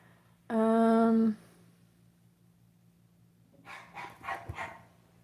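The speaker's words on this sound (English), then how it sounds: "my dog is barking" A dog barks indoors: one loud sustained howl-like yelp, then a quiet pause, then a cluster of several shorter barks at moderate distance over a low electrical hum.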